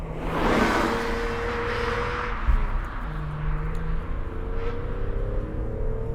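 An E46 BMW M3 CSL engine drones loudly and continuously, its tone rising and shifting through the revs as the car drives, with broad road and wind rush underneath.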